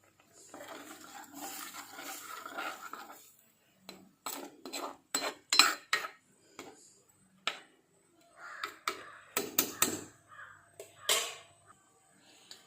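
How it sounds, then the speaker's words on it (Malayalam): Scraping and clinking of a spoon stirring fish curry in a metal pot, in short irregular bursts with pauses, close by. "മീൻ ഇട്ട് കൊടുത്തിട്ടുണ്ടേ ഒന്ന് ഇളക്കിയെടുക്കാം"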